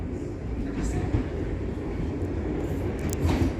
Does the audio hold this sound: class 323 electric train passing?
yes